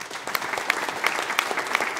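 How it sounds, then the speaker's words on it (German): A live business-event crowd gives a round of applause, many hands clapping in a full, even roar with a few sharper claps standing out near the front, and no speech over it. "Fetten Applaus für Margot"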